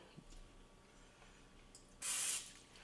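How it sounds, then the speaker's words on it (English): Pam cooking spray hisses onto a pan in one short, loud burst of about a third of a second near the end, following quiet shuffling room noise with a faint knock early on. "Maybe I'll spray some Pam just in case."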